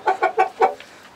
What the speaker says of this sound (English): So we got the chickens in here.